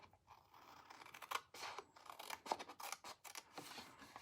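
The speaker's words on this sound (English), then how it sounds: "this whole little rectangle piece down here we can cut off" Scissors snip through paper several times while cutting out a small rectangular craft piece, a close, fairly quiet series of crisp cuts and rustles with no talking.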